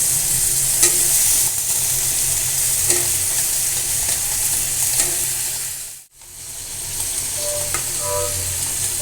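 Eggplant and potato sizzle with spices in hot oil in a home kitchen, a steady close frying hiss with occasional stirring scrapes and a brief dropout near the end.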